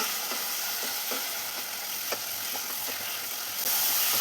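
Bitter gourd simmers in a pan with tamarind water, giving a steady hiss and sizzle with a light rhythmic run of spoon taps and scrapes as it is stirred up close.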